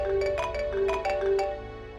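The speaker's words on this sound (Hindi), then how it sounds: "पता नहीं किसका फोन है, सुबह से कॉल किए जा रहा है" A mobile phone ringtone from an incoming call plays a repeating bright melodic pattern, fairly loud and close, with no talking over it.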